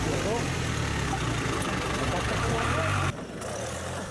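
An off-road tractor's engine drones steadily at a tractor festival in Papradno, Slovakia, a loud low rumble that drops away sharply near the end and then continues more quietly.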